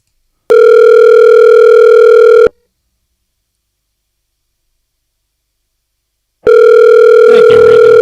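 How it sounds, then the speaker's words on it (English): A telephone ringback tone while a call is placed: two loud, steady, identical tones about two seconds long, separated by four seconds of silence. "Calling Nulton."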